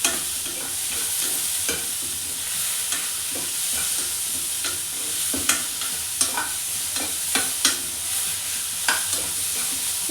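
Tomatoes and onions fry in a pan with a steady sizzle, while a spoon repeatedly scrapes and taps the pan during stirring. No one speaks.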